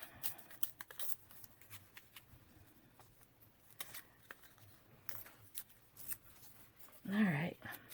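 Scrap paper is torn by hand, a few quiet ripping and rustling strokes close by, ending in a longer louder tear, with someone talking in between.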